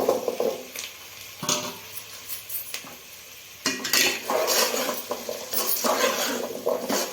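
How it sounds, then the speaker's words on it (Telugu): Ginger-garlic paste and taro root stirred in a pan, with a spoon scraping and clinking against metal in irregular bursts over a soft sizzle, close by and without speech. "ఇప్పుడు కలుపుకుందాం. చామగడ్డ వేసేసుకుందాము."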